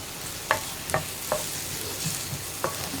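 Curry leaves sizzling in hot oil in a pan while cooking a Kerala-style potato masala, a steady soft frying hiss broken by a few sharp crackles and stirring clinks.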